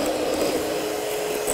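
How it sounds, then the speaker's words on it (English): Sugar and salt being whisked into a thick mixture for banoffee cupcakes make a short, steady whirring hum that holds an even level throughout, with no talking. "Give that a good whisk together."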